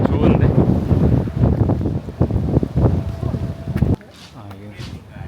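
Strong typhoon wind in Okinawa buffets the microphone with loud, rough, continuous roar for several seconds, then drops suddenly; a voice speaks over the gusts.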